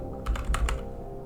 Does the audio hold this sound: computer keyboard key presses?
yes